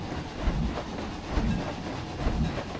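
A roller coaster train in the Planet Coaster video game rumbles along its track with a steady loud roar and rhythmic clattering pulses, heard alone without talking.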